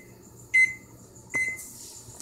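A microwave oven, used to heat plexiglass for bending, gives two short electronic beeps with a pause between them, clear and close against a quiet room.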